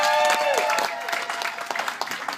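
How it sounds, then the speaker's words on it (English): Audience applause at a comedy show rises around a voice talking loudly at first, then thins into scattered claps that carry on under the fading talk. "Round of applause to start us off."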